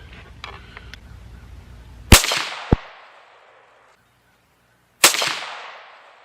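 17 HMR rifle firing outdoors, two sharp loud cracks a few seconds apart, each with a short trailing echo, and a smaller click-like report just after the first shot.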